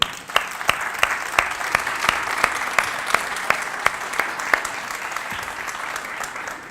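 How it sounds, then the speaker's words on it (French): Studio audience on a French-language variety show claps loudly to welcome guest Claude Rappé, with sharp, evenly spaced accents running through a steady wash of applause for several seconds. "Je vous demande de l'applaudir très fort."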